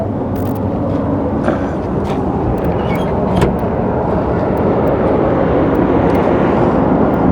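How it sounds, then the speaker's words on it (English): A fuel truck drives past a spot where an RV has sat for years, its steady broadband engine and road rumble holding loud and even throughout with no talk over it. "Another fuel truck."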